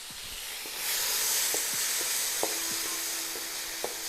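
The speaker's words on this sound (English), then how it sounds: "As you can see, our oil is nice and hot. And I'm going to put the meat in." Meat hits hot oil in a pan and bursts into a steady hissing sizzle, with faint scrapes and clinks from stirring utensils near the start and a few sharp ticks throughout.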